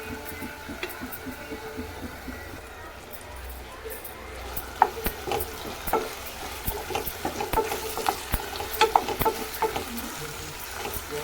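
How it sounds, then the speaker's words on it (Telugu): Capsicum pieces fry with turmeric in a pan, giving a low steady sizzle broken by frequent clicking, scraping stirs of a spatula that grow busier partway through. "ఇప్పుడు క్యాప్సికమ్ ముక్కలు వేసుకోవాలి"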